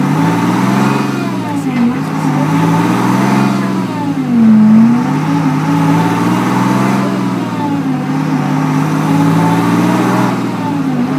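A Whipple-supercharged Detroit 6V53 two-stroke diesel in a 1986 Chevy one-ton 4x4 runs loud and close on a dyno, with a continuous droning roar that rises and dips in pitch through several revs.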